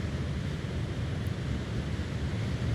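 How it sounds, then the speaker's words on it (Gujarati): Water splashing steadily as it flows outdoors, a continuous broadband rush with strong low rumble and wind buffeting on the microphone, no talking. "જોઈ શકો પાણી જાય છે છપ છપ"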